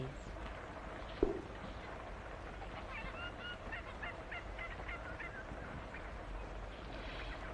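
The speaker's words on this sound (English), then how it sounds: "There are some geese on the farm as well." Geese on a farm honk in a quick run of nasal calls partway through, fairly faint against a quiet outdoor background with a single sharp knock early on.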